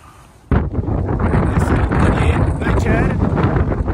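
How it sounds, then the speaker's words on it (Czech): Strong, gusty wind on the Pacific Crest Trail roars loudly and steadily into the microphone, buffeting it with a low rumble after a sudden onset, with no pause. "Jsem na brutálně větrný místě."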